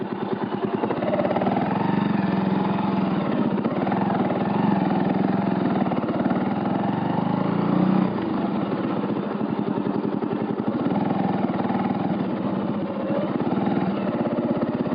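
A motorcycle engine runs steadily and fairly loud throughout, a continuous mid-low drone on a muddy rural track, with slight changes in tone toward the middle.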